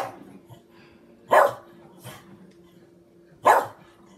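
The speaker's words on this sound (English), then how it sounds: "my dogs are barking" Dogs in a house bark in two loud, separate bursts with a softer yip between them, slightly distant, while a low television-like hum runs underneath and no one speaks.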